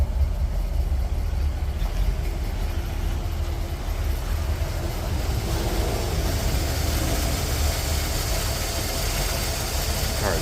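A 1955 Chevrolet Bel Air Convertible idles steadily and fairly quietly, a low, even engine rumble holding for the whole stretch with no talk over it.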